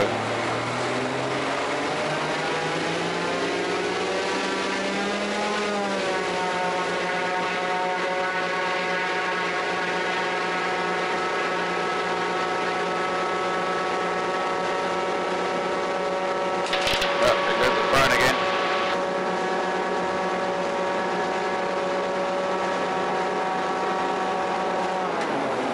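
Raptor prototype aircraft engine droning steadily through a high speed taxi test, its tone rising in pitch early on then holding a loud, continuous hum with harmonic whine, plus a brief burst of broadband noise midway.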